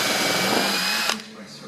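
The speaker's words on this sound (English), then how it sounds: "using a 1/4 inch drill, what we do, we go ahead and drill right through the factory bumper here" A power drill whirs loudly and steadily up close as it bores through plastic, then cuts off abruptly.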